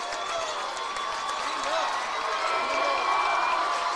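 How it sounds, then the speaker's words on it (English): A home crowd cheers and applauds at a girls' high school basketball regional semifinal in a packed gym, a steady wash of noisy cheering that swells slightly toward the end, with a commentator's voice mixed in over it. "And the crowd here cheering them on at home,"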